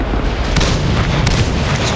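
Tank cannon fire in a World of Tanks-style game featuring a Chaffee light tank: dense, rumbling explosive blasts and booms, loud and continuous with sharp bursts around half a second and one and a quarter seconds.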